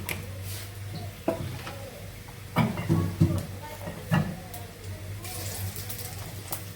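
White oil and mustard oil heating in a pan, a soft steady sizzle with occasional clinks and stirring taps, while a person talks over it.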